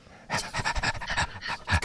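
A dog pants rapidly and close by in quick, rhythmic breaths that continue for nearly two seconds with no voices.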